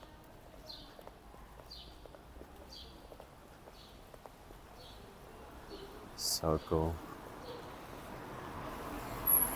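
Birds sing outdoors in a neighborhood after rain, a regular series of short, bright chirps repeating about every half second at moderate distance. A brief spoken comment and a few dull knocks break in near the end.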